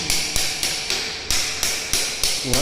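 Hammer blows striking a metal strainer valve during water-line maintenance, eight sharp, evenly spaced strikes in a steady rhythm, loud and close with ringing metallic decay.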